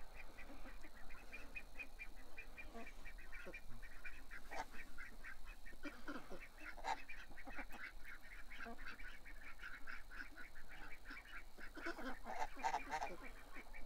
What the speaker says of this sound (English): It's such a cute little duck.